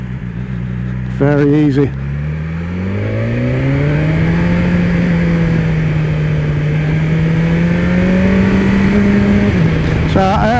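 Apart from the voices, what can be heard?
BMW S1000 XR motorcycle in first gear through a hairpin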